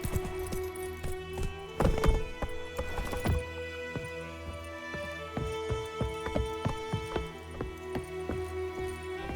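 Hooves of Roach, a horse in the video game The Witcher 3, a run of clip-clop steps with metallic jingling tack and a brief louder flurry early on, set against a steady tonal game score.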